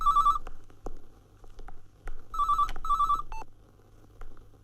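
A telephone bell rings in two bursts separated by a pause, fairly faint against a steady low hum in a quiet room.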